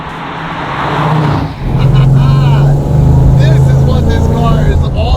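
A supercharged LSA V8 in a 1969 Chevrolet Camaro SS restomod rumbles loud and close, revving and settling into a deep steady growl with a whining supercharger, with talk over part of it.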